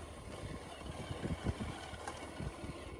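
A motorcycle rides down a steep, slippery dirt road into a village, its engine a low, faint rumble that pulses steadily with small bumps along the way.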